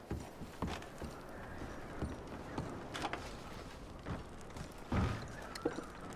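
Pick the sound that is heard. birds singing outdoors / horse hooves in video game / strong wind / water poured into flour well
horse hooves in video game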